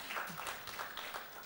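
Applause from the audience at a panel discussion on structural reforms, a short, even patter of clapping in a hall, fading slightly toward the end.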